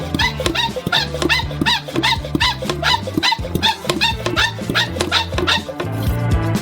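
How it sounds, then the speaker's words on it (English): A hand pump forces air into a sealed container filled with a water balloon, producing a close, rapid, regular series of squeaky strokes with a low mechanical thump under each one, continuing steadily throughout; no talk. "And pump the air, creating pressure."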